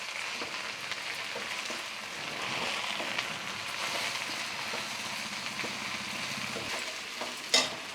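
Sliced onions and drumstick leaves fry in a pan with a steady, fairly faint sizzle and crackle, with light stirring scrapes throughout and one sharp clink near the end, and no talking.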